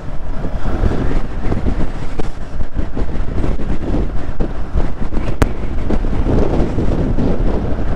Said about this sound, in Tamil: காத்து செம்மையா வீசுது.